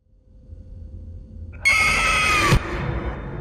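Loud monster scream from a jump scare in the horror video game Garten of Banban, erupting suddenly after a low rumbling buildup, blaring for about a second, then cutting to a sustained eerie ambience.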